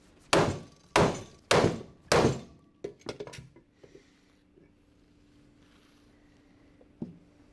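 A hammer strikes the scalloped edge of Flexco SR rivet hinged belt fasteners: four loud, evenly spaced metallic blows, then a few lighter taps and a final single knock, close up with no talk.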